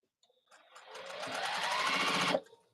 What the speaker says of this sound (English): I got to sew the other side